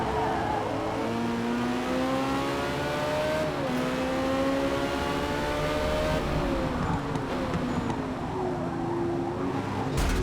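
Ferrari engine in Forza Motorsport revving hard, steady loud whine climbing through gears with shifts and pitch drops, continuous and close, no talking.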